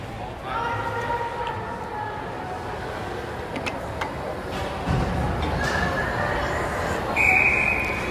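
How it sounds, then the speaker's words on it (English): A referee's whistle sounds a brief high note near the end during an under-19 youth team game between two clubs, heard over arena noise and steady play-by-play commentary. "And there's the whistle."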